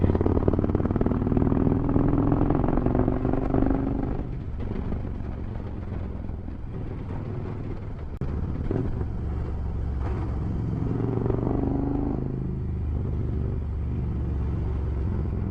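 A KTM motorcycle rides along a winding country road, its engine droning steadily close by with low rumble and wind, rising and falling slightly as throttle changes, with no talking.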